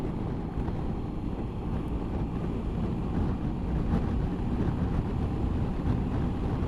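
Gusty wind on a blustery day, around 25 mph, buffets the microphone during a Honda ST1100 motorcycle ride on the A30 behind a screen, a continuous low rumbling roar that swells and eases with the gusts.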